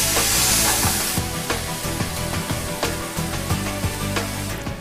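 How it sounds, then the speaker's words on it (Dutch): Schnitzels fry in a BK Easy Basic non-stick pan, with a bright continuous sizzle that starts out strong, then eases into crackling hiss punctuated by sharp clicks and scrapes, close and loud. "kan ik mijn schnitzeltjes met gemak mooi krokant bakken en plakken ze nooit vast"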